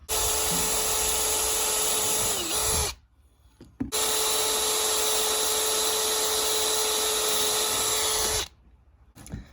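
A power drill bores holes through Kydex plastic sheets for a knife neck sheath, running as a loud continuous whine for about three seconds, stopping briefly, then whirring steadily again for nearly five more seconds before cutting off.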